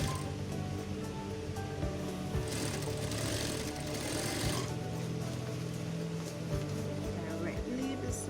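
A sewing machine stitches close beside a zipper on a garment, a steady mechanical whir running throughout, fairly quiet, with a person talking over it.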